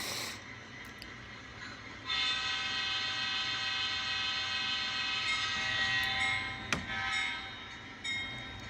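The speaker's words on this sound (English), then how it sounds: "And my locomotive is still on" Model train locomotive running on an apartment layout track, a faint steady whirring hum with a brief sharp click near the end, no talk.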